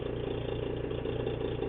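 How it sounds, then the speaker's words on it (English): An air compressor runs beside a vacuum chamber in a tile-extruding workshop, giving a steady, loud, low mechanical drone with a rapid pulsing throb throughout, no voices heard. "That sound you can hear is actually the compressor running."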